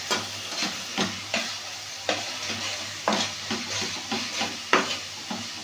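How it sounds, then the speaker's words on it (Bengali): Ginger and garlic paste frying in a pan for a Bengali-style green jackfruit curry, a constant close sizzle broken by regular, roughly once-a-second scrapes of a spatula stirring. "আদা বাটা আর রসুন বাটাটাকে খুব ভালো করে ভেজে নেব।"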